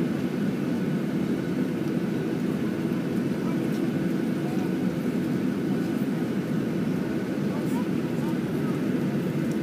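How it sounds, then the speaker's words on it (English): A Southwest airplane takes off at San Francisco airport, with a steady, loud jet roar droning without a break. "There goes Southwest plane."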